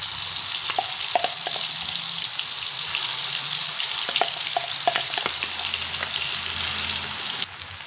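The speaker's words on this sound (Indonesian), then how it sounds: "Minyaknya sudah panas, akan saya masukkan bumbu yang sudah di blender." Blended spice paste for jenang suro sizzles steadily in hot oil, a loud continuous crackling hiss with occasional stirring clinks and scrapes throughout, easing slightly at the end.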